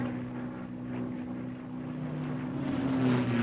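A P-51 Mustang fighter plane's engine drones steadily in flight at a distance, a continuous humming tone that swells slightly toward the end.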